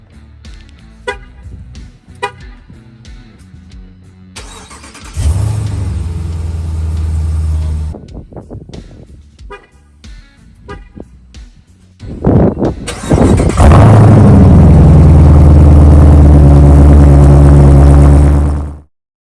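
A Ram TRX pickup truck starts up and drives off, its engine rumbling loud and close, then roaring up into a sustained heavy growl before cutting out abruptly, with a brief horn-like toot early on.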